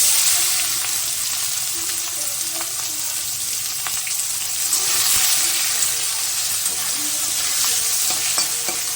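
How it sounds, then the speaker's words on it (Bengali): Chopped onions fry in a pan with a dense, continuous sizzle close up, broken by scraping stirs and small clinks throughout. "পেঁয়াজটা দিয়ে দিলাম, পেঁয়াজটা একটু ভেজে নেব।"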